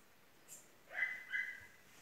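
Dogs barking faintly far off down below near a forest stream, a couple of quiet distant barks and yips against near silence.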